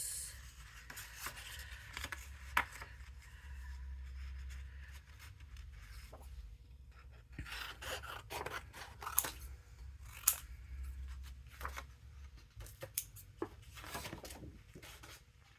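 Scissors snip through paper, cutting die-cut pieces for a handmade Christmas card with farmhouse-themed stamps and dies; quiet, irregular close-up cuts and paper rustling with no talking.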